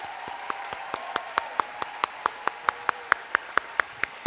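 Rhythmic unison clapping at a teacher awards gala, a crowd striking together in an even beat of about five claps per second that grows slightly louder over a faint background hum.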